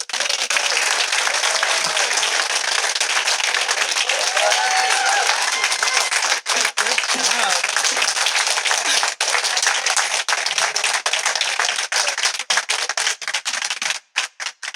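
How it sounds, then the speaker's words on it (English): Sustained applause fills a town swearing-in ceremony, with many hands clapping densely and steadily for about fourteen seconds before it thins into a few scattered claps at the end. "Give her another round of applause."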